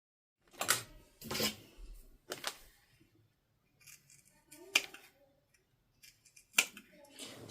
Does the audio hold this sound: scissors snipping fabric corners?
yes